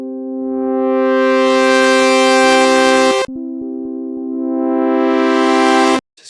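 Synthesizer tone played twice with a delayed attack on its envelope, each note swelling in gradually rather than starting at once, a steady harmonic-rich sustained pitch that holds for about three seconds before cutting off.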